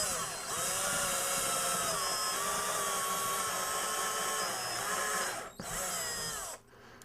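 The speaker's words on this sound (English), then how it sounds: "We're going to drill 2 holes right in the center to either side of dead center of this piece here." A power drill bores pilot holes into the wood of a pedalboard frame, whining steadily and close for several seconds, with a brief dip before it spins down near the end and no talk.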